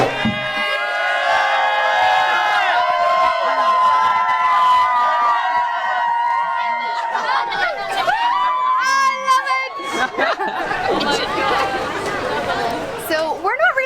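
A lively Malaysia Day festival crowd in Kuala Lumpur, with song and dance all around: loud, close chatter, children shouting and bursts of cheering blend into a constant busy hubbub.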